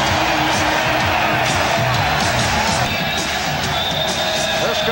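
A capacity crowd of over 19,000 roars and cheers in a basketball arena during a 1992 Knicks vs Bulls playoff game, with loud, sustained noise and scattered yells over a constant din.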